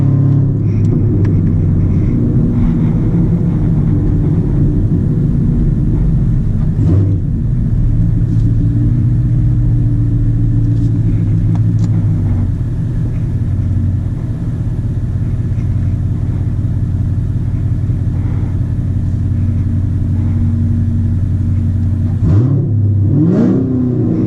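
A 2016 Camaro SS with full bolt-on modifications runs loud and steady, its deep V8 rumble holding near and constant for the whole stretch, with brief dips and a short rise toward the end and no talk over it.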